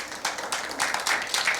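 Church congregation clapping for the Lord during a sermon, a short burst of dense applause that swells in uneven waves.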